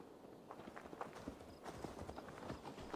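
Horse hooves clip-clop at a steady trotting rhythm in the Assassin's Creed Valhalla video game, moderately close, with faint background ambience under the hoofbeats and no talk.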